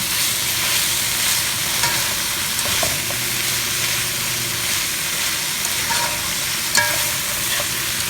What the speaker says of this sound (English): So, just gonna stir fry it a little.